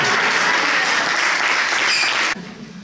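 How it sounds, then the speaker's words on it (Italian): Concert audience applause in a church hall of San Giacomo, a dense, loud wash of many hands clapping that holds steady and then cuts off abruptly near the end, leaving a quiet room. "Bel applauso"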